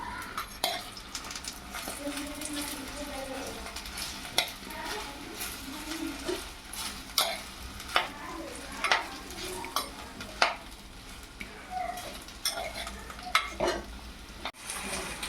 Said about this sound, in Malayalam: ശേഷം വഴുതനങ്ങയും ഇഞ്ചിയും ചേർത്ത് നന്നായി ഇളക്കിയെടുക്കുക.